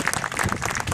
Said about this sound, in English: that I think we need to applaud for